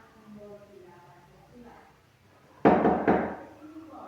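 Two sharp, loud knocks on a table in a classroom science lesson, close and spaced about half a second apart, following a stretch of quiet talking.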